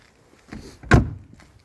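A car door is worked by hand: a soft rattle comes first, then one solid, close thunk as it shuts, with a light mechanical rustle afterward and no voices.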